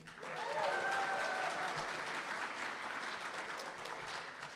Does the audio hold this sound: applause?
yes